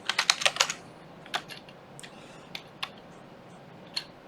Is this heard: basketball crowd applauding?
no